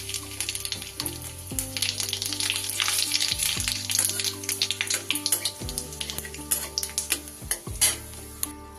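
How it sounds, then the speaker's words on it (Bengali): Bay leaf, cumin and whole garam masala spices sizzling in hot oil, a bright continuous crackle with scattered pops and a few tonal clinks, close and loud, with no talking. "এবার এই তেলেই আমি দিয়ে দিচ্ছি ফোড়ন, একটা তেজপাতা, একটু জিরে আর একটু গোটা গরম মশলা।"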